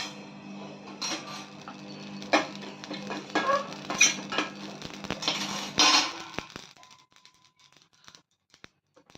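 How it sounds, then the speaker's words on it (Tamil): Mustard seeds crackle and pop in a hot pan, a quick scattered sizzle with metal utensil clinks that fades to near silence at the end. "கடுகு நல்லா பொரிஞ்சிருச்சு"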